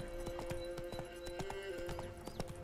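A horse trots along a road in The Witcher 3: Wild Hunt, its hooves clip-clopping in a steady, even rhythm, close and fairly quiet, with a sustained game tone beneath.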